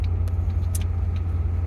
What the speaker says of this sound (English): I am currently driving a 1963 Galaxie that's been parked for 2, maybe 3 years.